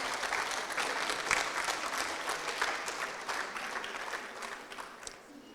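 An audience applauds a restaurant team at a responsible-restaurant ceremony, a dense roomful of clapping that holds steady and then slowly thins toward the end.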